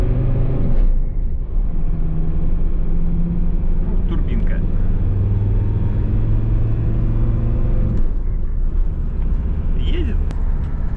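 A turbocharged Volkswagen LT van drives along with a loud, steady engine rumble and road noise inside the cab, shifting in pitch as it accelerates, while someone talks over it.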